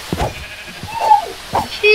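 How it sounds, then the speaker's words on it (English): Several Minecraft sheep bleat in short, separate calls with brief gaps, close and fairly loud, while a voice speaks over them. "Sheep! Oh, they're all coming."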